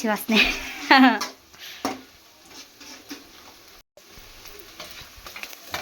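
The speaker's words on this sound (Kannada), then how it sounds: "ಈರುಳ್ಳಿ ಬೆಳ್ಳುಳ್ಳಿ ಹಾಕಿದ್ದೀವಿ ಇವಾಗ ಸೋಂಕಾಳು ಆಯ್ತಲ್ಲ ಬ್ರೌನ್ ಕಲರ್ ಬಂತಲ್ಲ ಇನ್ನೂ ಫ್ರೈ ಹೋಗೈತೆ" Onion and garlic fry to brown in a pan, a moderate sizzle with occasional stirring scrapes; a voice talks over the opening moments, then the frying carries on mostly alone.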